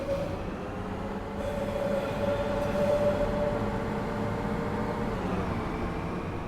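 Steady rumbling of a DB BR 642 diesel multiple unit on the Maintalbahn from Aschaffenburg to Miltenberg in Train Sim World 4, with low engine drone, rolling wheel noise and a faint squealing tone.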